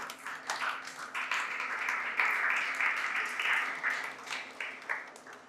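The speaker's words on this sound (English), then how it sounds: "Please give yourself a round of applause once more." A small school debate audience claps for a few seconds, the applause swelling and then thinning out, fairly quiet and a little distant.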